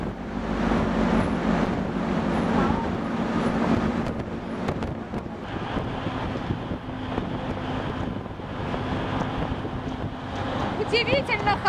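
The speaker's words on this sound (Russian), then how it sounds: "Удивительно хорошая погода, но сильный ветер" Strong wind at sea near Turku, Finland, sweeping across the islands of the Baltic, buffets the microphone as a loud, continuous roaring rumble that carries unbroken from start to finish.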